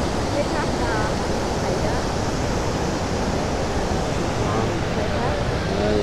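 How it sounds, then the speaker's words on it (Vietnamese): A continuous heavy roar of Ban Gioc waterfall at the Vietnam–China border, loud and constant, with faint voices barely rising above the rushing water. "Tiếng thác chảy nghe kinh khủng khiếp không bác?"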